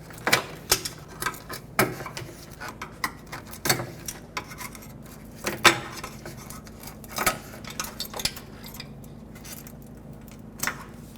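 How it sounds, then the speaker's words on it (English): Plastic push clips pried with a trim tool from a rubber insulator on the upper radiator support of a 2009-2014 Ford F-150: scattered sharp clicks, pops and scraping clatter, close and fairly loud, with a low hum underneath. "It's got push clips all along. Just pry them out with a trim tool."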